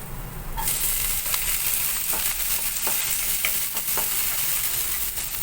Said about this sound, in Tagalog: Ngayon ilagay ko na yung luya. Kaya yung una natin i-gisa.